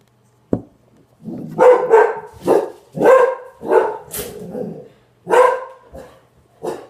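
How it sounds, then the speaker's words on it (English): A dog barks near and loud at a workbench while a chimney is being fitted, about eight sharp barks in an uneven series, with quiet gaps between them. "Excuse the dog."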